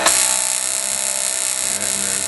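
A spark plug arc running unsuppressed without plasma gives a steady, harsh electrical buzz and hiss, loud and unbroken from start to finish.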